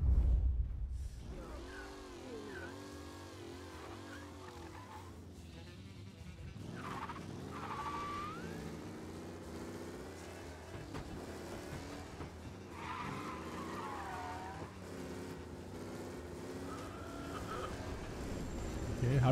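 Race car in the Mafia game's big auto race, engine revving and tires skidding with rising and falling pitch sweeps, continuous and fairly loud, with brief stretches of talk mixed in.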